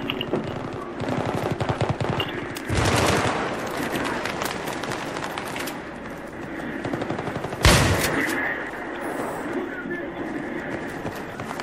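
Rapid automatic gunfire rattles almost continuously in a video game shooter, with a couple of louder bursts standing out, while someone talks over the shooting.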